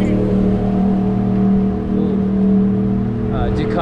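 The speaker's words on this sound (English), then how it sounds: "Ducati looks like a Panigale." A Ducati Panigale motorcycle engine drones steadily up close with a strong low rumble, rising briefly toward the end as it revs past amid city street noise.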